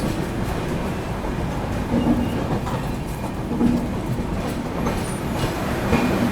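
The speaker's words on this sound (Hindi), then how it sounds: "चलिए दोस्तों निकल चुकी है अपनी ट्रेन जो है किशनगंज रेलवे स्टेशन से" Arunachal AC Superfast Express pulling out of Kishanganj station in heavy monsoon rain, a steady rumbling train noise with faint rhythmic wheel clicks under the broad wash of rain and movement.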